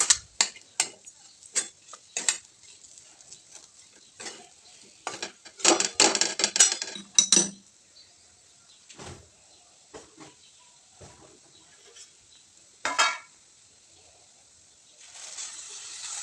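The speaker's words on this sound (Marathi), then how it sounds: "आता आपण जे ते आहे सगळं मिक्स करून हलवून घ्यायचे" Rava gulab jamun mixture being stirred in a bowl with sugar and milk, producing sparse ticking clinks of a spoon against the bowl, with a denser burst of scraping midway and quiet gaps between.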